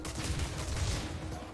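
Explosions in the video game Crash Bandicoot 2 from the N. Sane Trilogy make a dense, continuous rumbling blast that fills a short burst at steady loudness.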